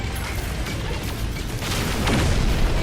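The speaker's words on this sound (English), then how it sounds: "Photon cannon works great. Make sure to use the photon cannon." Photon cannon shots crackle from a ship in No Man's Sky, a dense mechanical burst of energy fire that swells louder toward the end.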